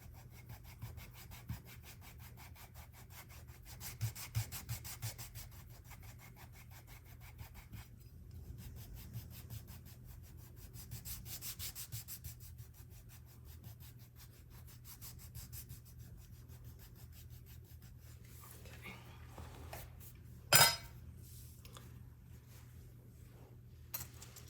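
A foot file rubs back and forth across toenails during an at-home pedicure, making a steady, close, raspy scraping in repeated strokes, with one brief louder knock near the end.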